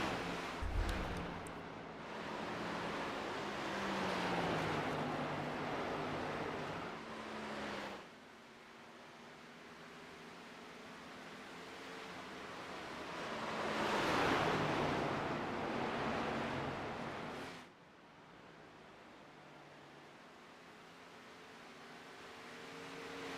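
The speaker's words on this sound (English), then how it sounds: "it is absolutely pouring the rain" Heavy rain pours down close to a microphone, a loud, steady broadband hiss that swells and fades in long surges, with no voices.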